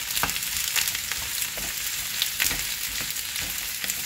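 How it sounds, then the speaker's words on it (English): Red and white onions sautéing in a pan, a continuous close sizzle with soft scraping stirs at irregular moments and no voices. "Now we're going to saute this"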